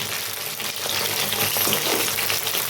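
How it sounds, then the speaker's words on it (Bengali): Cabbage frying in a pan for a fish curry, with a steady, loud, close sizzle and crackle that holds throughout with no talking. "বন্ধুরা এখন আমি কবিগুলো ভেজে নেবো সব সব কবিগুলো"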